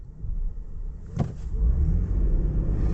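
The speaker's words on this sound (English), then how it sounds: "we'll just do a bit of a standing start, not full throttle" A 2026 Ford F-150 pickup pulls away from a standing start at part throttle, its engine rumble swelling into a loud, steady drone after a brief lull.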